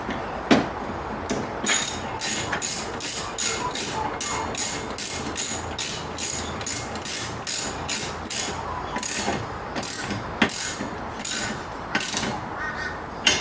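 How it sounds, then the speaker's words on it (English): A ratchet wrench tightens cover bolts with quick, regular clicking strokes, a steady run of sharp metallic ratcheting close by with brief pauses between bursts. "We'll tighten these bolts up here."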